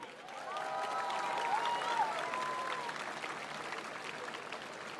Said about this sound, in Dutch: een groot applaus voor onze 5 gedecoreerden